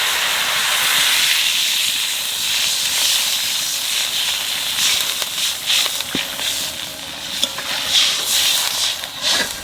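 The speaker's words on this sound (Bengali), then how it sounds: "এইবার জল দিয়ে দেবো।" Water is poured into a hot pan while cooking a mustard hilsa curry, setting off a loud, steady sizzling hiss of steam that carries through the whole stretch with small crackling flickers.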